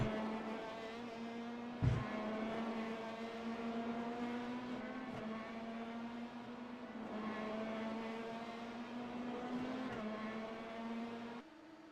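Race car engine on the final lap, a steady sustained whine with strong harmonics at high revs, with a brief thump near the start and a slight pitch rise and fall as the car drives away.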